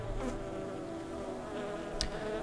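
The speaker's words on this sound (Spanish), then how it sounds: "Vemos como la mosca se va alejando cuidadosamente" A fly buzzes in a faint, continuous drone that slowly drifts and fades as the insect moves away, with a small sharp sound near the end.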